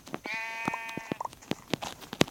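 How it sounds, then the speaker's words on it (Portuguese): A sheep in the Minecraft video game bleats several times in short, wavering calls up close, with scattered game clicks and footstep sounds around them. "Pronto, encontrei a ovelha."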